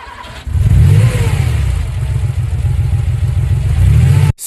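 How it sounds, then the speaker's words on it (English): A limousine engine revs up loudly and close, then holds a steady, throaty drone for about four seconds before cutting off abruptly. "Limousine."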